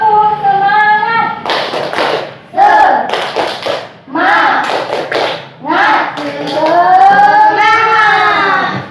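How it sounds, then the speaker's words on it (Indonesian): A classroom of children performs a rhythmic spirit clap on the count of three: bursts of hand claps mixed with loud chanting voices, close and lively, with a teacher's voice in between. "Tepuk semangat ya, hitungan ketiga mulai ya. 1, 2, 3, tepuk semangat."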